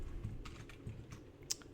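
Computer keyboard typing, a few scattered soft keystrokes over a low background hum, fairly quiet and close.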